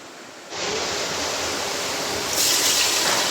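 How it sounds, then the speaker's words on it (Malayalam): A steady rush of water poured into a cooking pot starts abruptly after a brief quiet moment and grows slightly louder near the end, loud and close. "വെള്ളം ഒഴിച്ചു കൊടുക്കട്ടോ"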